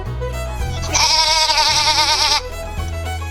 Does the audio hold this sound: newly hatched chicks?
no